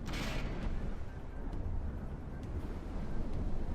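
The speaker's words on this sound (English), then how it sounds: "These mortars, it's so rare we see them hit, so it's funny they do." Mortar shells strike in the naval battle game From the Depths, giving a continuous low rumble of distant impacts with a brief brighter burst at the start and faint cracks scattered through.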